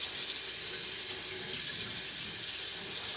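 Tap water runs steadily from a kitchen faucet as squid is peeled under the stream, a continuous close hiss and splash with no talk.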